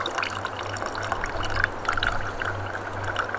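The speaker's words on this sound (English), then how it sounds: "I'm gonna squeeze our water in there." Water is squeezed from a bottle into a backpacking drink with lime, producing a soft, continuous trickling pour heard up close and quietly.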